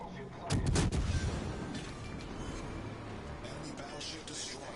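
Naval guns fire in the World of Warships video game: a loud, heavy salvo booms near the start and then rolls off into a long, rumbling tail with scattered distant blasts.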